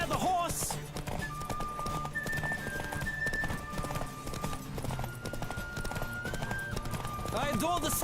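Galloping hooves of a horse in a Witcher 3 race thunder steadily up close, mixed with music and voices calling out over the run.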